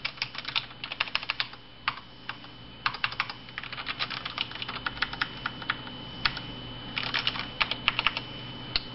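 MaxKeyboard Nighthawk X8 mechanical keyboard keys clack in quick, irregular bursts as they are pressed hard to the bottom, close and crisp with no talking.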